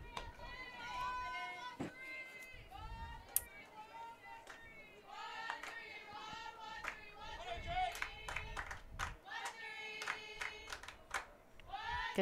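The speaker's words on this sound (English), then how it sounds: "Get to listen to the girls cheer it on, get them going." Softball players cheering and clapping from the dugout during a college game, with scattered claps, shouts and chatter rising and falling over about twelve seconds amid voices.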